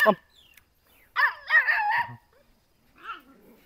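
Naga dog puppies playing in a kennel in Sivasagar, Assam, give a few short yelps and whines, one brief burst in the middle and a fainter one near the end, with quiet gaps between.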